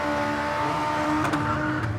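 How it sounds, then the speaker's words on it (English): Old Toyota Corolla with a race-spec engine held against the rev limiter, a steady, loud, buzzing drone with brief stuttering cuts, continuous through the short stretch. "He assured us his race spec engine didn't mind bouncing off the rev limiter."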